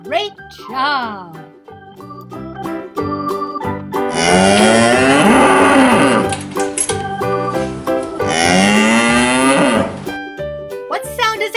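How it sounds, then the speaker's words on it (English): Cattle moo loudly in two long drawn-out calls, each several seconds, set in a children's song about farm animals with chiming jingles and a child-like voice around them. "What sound does a cow make, boys and girls? Moo!"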